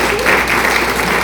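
Brief burst of audience applause at an Appalachian storytelling stage show, a dense close wash of clapping that fills the whole moment without pause.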